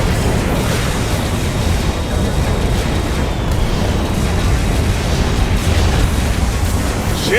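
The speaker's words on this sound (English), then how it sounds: "Man, they're just spamming out these bombs." Bombs detonating in a Freespace 2 space battle, a dense, continuous wall of loud rumbling blasts and booms that overlap without pause, with no voices.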